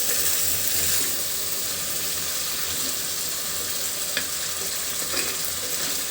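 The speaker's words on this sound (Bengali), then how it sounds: "এখন খুব ভালোভাবে মশলার সঙ্গে মাছটা মাখিয়ে নিব" Fish frying and being stirred into spiced masala in a pan, a steady sizzle with faint scraping and a few soft clinks, close and continuous, no voices.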